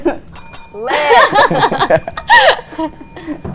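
A bell rings with a sustained metallic tone while people laugh and chuckle loudly over it.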